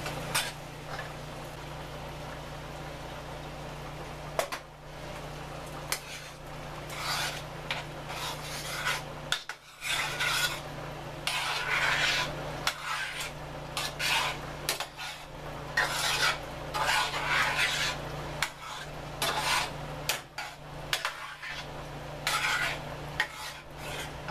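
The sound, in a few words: adding two cans of spaghetti sauce to the pan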